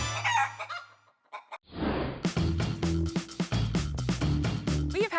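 Hens cluck steadily in a farmhouse hen house while a rooster crows loudly over them, a busy, close chorus of clucks, squawks and crowing with no talk.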